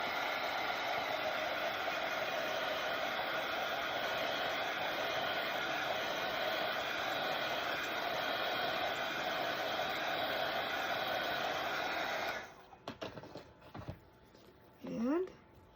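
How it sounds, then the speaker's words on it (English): A dryer blows steadily over marker colouring on a gingerbread gnome craft piece, a loud even whooshing hum that runs about twelve seconds and then cuts off, followed by a few faint handling sounds. "I am going to give this a quick dry."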